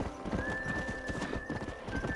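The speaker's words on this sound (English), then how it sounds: "O cavalo tá lá" In Red Dead Redemption, a horse's hooves clip-clop in a fairly quick rhythm alongside a drawn-out whinny, quiet and close, with faint voices in the background.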